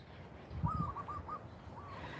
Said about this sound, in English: That the doves are all out.